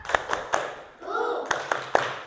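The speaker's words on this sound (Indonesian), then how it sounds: "Kita tepuk semangat dulu. Tepuk semangat." Fourth-grade schoolchildren perform a rhythmic spirit clap in a classroom: sharp patterned hand claps at close range, broken by a brief chanted group voice in the middle.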